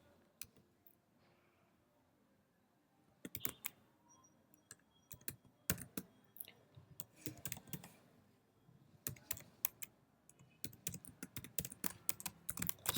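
Typing on a computer keyboard, quiet irregular bursts of close key clicks that start sparse and grow busier, with no talking.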